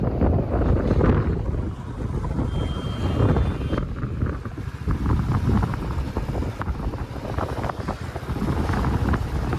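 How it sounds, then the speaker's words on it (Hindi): Cool wind blows steadily at Devprayag, a river confluence in the Himalayan foothills, as a loud, continuous rushing that buffets the microphone throughout, with no talk. "ठंडी ठंडी हवा चल रही है"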